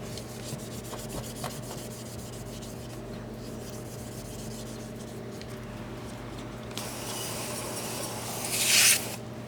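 Continuous abrasive rubbing and scrubbing on a car's metal exhaust tip, a steady scratchy rasp with a brief hissing water spray near the end.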